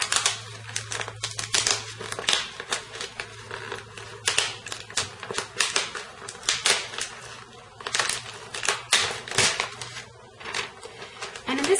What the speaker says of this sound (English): So I'm going to remove the foil from the backing.